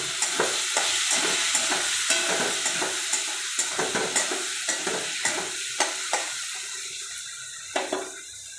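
Chopped onions and green chilies frying in a pan for a light prawn curry, a soft sizzle under repeated scraping strokes of a spoon stirring at an even rhythm.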